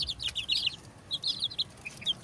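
Chickens cluck in short bursts, several birds close by against a low rumble of background noise.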